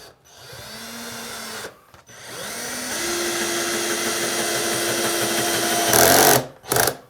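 A budget cordless drill driver on its lowest torque setting drives a 4x50 wood screw, its motor whining steadily in two long runs, then the clutch slipping and ratcheting in a loud rattling burst at the end, heard close up.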